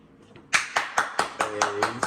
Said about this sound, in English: live audience definitely clap